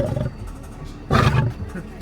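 A lion roars at a safari animal resort during feeding, one loud close roar rising suddenly midway, with voices talking before and after.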